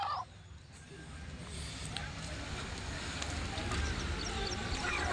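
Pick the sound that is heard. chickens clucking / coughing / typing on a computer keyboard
chickens clucking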